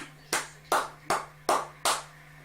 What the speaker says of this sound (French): J'applaudis par moi-même.